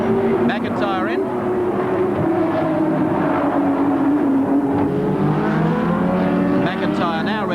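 At the 1987 Nissan/Mobil 500 in Wellington, New Zealand, a touring race car leaves the pits to rejoin the race, its engine revving and rising in pitch amid other cars, under continuous commentary.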